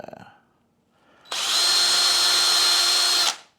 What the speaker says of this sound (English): We don't want to drill all the way through that.